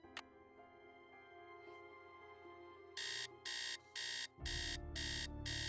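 Alarm clock ringing in the Nancy Drew: Secret of the Scarlet Hand video game: after a quiet stretch, loud bright bursts of ringing repeat in a steady on-off rhythm, growing fuller toward the end.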